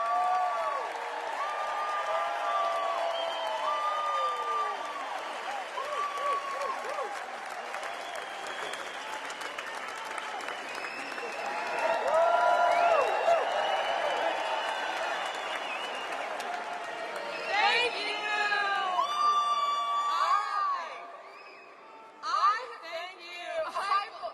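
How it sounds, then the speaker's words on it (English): A large crowd at a political campaign rally in Tampa, Florida applauds and cheers continuously, loud and sustained, with some shouting voices mixed in before it thins out near the end. "Give a big round of applause to your neighbor, our Attorney General Pam Bondi."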